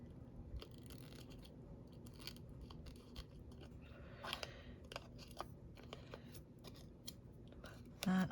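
Scissors trim tape on a junk journal page: a series of quiet, crisp snips at close range, irregularly spaced against a soft background.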